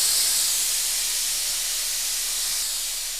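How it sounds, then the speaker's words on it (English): An Eastwood QST-30/60 quiet scroll air compressor shuts off and releases pressure with a loud, steady, high-pitched hiss of escaping air that fades slightly over a few seconds. "So that lets off a high-pitched air releasing sound once the tank's actually full."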